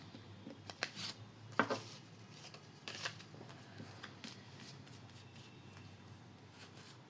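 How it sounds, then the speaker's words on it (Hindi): Tarot-style cards being shuffled for a divination reading, a run of soft papery riffles and slaps with a few sharper snaps, close and quiet with no talking over it. "मैं चलिए कार्ड्स पुल कर लेती हूँ।"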